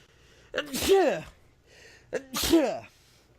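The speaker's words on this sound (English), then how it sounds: "Hang on, I gotta sneeze." Two loud sneezes in a row, each with a sharp inhaled buildup before the explosive burst, close up with quiet between them.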